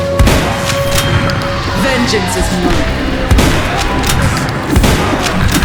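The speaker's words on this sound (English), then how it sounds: "Sound effects, especially gunshots and explosions, have a chunky weight to them that makes every hit feel impactful." Rapid gunfire bursts and heavy booming explosions from an indie run-and-gun video game, loud and chunky, repeating through the clip with a voice briefly speaking over the action.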